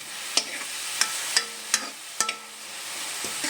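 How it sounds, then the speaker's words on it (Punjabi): Onion and tomato paste masala frying in a pan, with a soft steady sizzle broken by five or six sharp scraping knocks of a spoon stirring, close by and with no voices. "ਹੁਣ ਇਹਨੂੰ ਹਲਕਾ ਹਲਕਾ ਸਿਮ ਤੇ ਭੁੰਨਾਂਗੇ ਤਾਂ ਕਿ ਸਾਡਾ ਮਸਾਲਾ ਕੱਚਾ ਨਾ ਰਹਿ ਜਾਵੇ"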